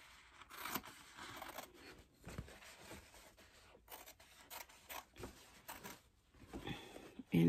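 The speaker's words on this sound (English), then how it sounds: "you're going to trim this away, being careful not to cut your toilet paper" Scissors snipping and embroidery backing being peeled away from machine-embroidered toilet paper: quiet, close rustling, tearing and scratchy cutting sounds in short irregular bursts, with no one speaking.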